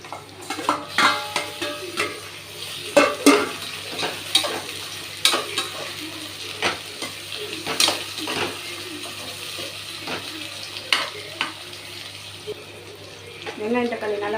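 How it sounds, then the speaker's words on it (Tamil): Onions and tomatoes being sautéed in a pan with salt for a vegetable biryani, with a steady sizzle, repeated scraping stirs and clinks of a spoon against the pan throughout. "வெங்காயம் தக்காளி நல்லா வதங்கணும்னா உப்பு போட்டு கொஞ்சம் வதக்கினீங்கன்னா சீக்கிரமாக வதங்கிடும்"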